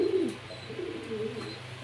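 Pigeons of the Soya Chandan variety coo close by in a short, soft, low throaty burst, with faint background noise and no talking.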